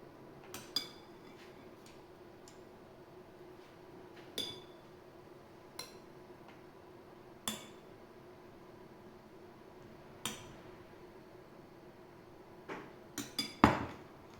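A spoon mixes cocoa-laced chocolate roll batter in a bowl, giving sparse, irregular clinks and taps against the dish over a quiet background.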